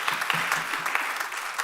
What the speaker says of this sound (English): Quick round of applause, by the way, for our tech team today